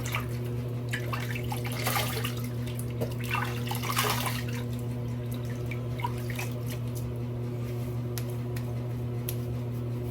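Tap water runs steadily for rinsing after a shave, a continuous close splash with a constant low hum beneath it.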